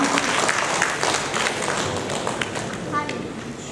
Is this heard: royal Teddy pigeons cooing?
no